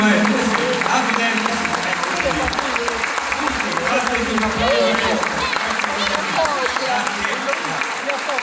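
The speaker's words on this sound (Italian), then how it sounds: "Vi fate un applauso su voi, tutti insieme. Un applauso forte." Concert audience at a tribute show applauds loudly and continuously, dense clapping with scattered cheers filling the whole stretch.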